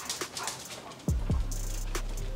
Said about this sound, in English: Couple more barks, couple more barks.